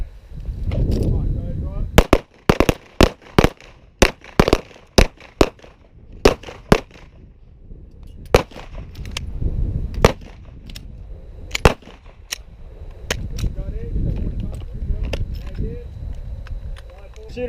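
Pistol shots from a defensive shooting drill ring out in sharp irregular bursts and singles, loud and close, with pauses between strings and a voice calling commands in the gaps.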